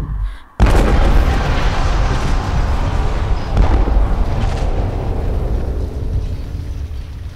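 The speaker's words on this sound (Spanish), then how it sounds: "¿Sobrevivimos a esa explosión?" A sudden loud explosion in the video game Beyond: Two Souls booms after a brief quiet moment, then a long rumbling roar that slowly fades, with a second burst midway.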